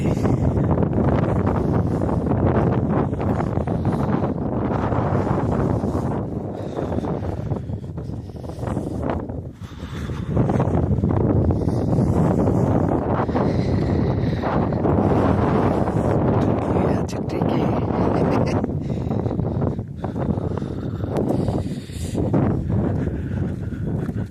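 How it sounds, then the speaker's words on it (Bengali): Strong wind on Marwah Hill, Meghalaya, buffets the microphone in loud, continuous gusts, briefly easing before roaring back. "হাওয়া চলছে।"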